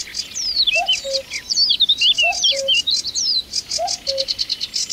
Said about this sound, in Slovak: Znovu teda púšťam zvuk kukučky.